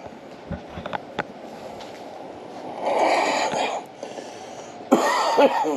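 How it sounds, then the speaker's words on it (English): A person coughs several times, a couple of short hacks followed by longer, harsher coughing bursts, close and moderately loud against a steady background hum. "Coughing from the other day when I sanded this stuff from with the fiberglass on it."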